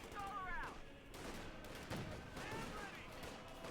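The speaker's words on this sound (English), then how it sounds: "There we go, Greyhound engages the Lux. Shot fired, did a bit of damage, nothing huge." Gunfire from a Greyhound armored car against a Luchs tank in Company of Heroes 2, a few sharp cannon shots and battle noise crackling steadily through a busy game mix, with a voice talking over it.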